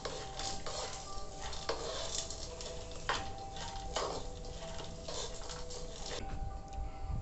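Green peas stirred through a hot pan of Cantonese fried rice over medium heat, with a steady low sizzle and repeated scraping and clinking of a utensil against the pan, no voices.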